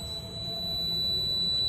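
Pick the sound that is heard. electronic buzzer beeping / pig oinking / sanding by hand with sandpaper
electronic buzzer beeping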